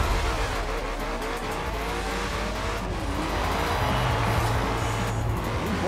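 Ford Shelby GT350R in Forza Horizon 4 accelerating hard and cornering, a loud continuous engine roar with rising gear pitch and bursts of tyre squeal, steady and close throughout.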